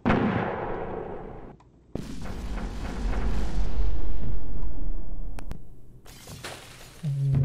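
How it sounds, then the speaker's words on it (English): Machine guns open fire in the PC demolition game Demolition 3D, a sharp crack followed by a swelling rumble of heavy firing and crumbling debris, with more impacts near the end. "Let's see what the machine guns will do."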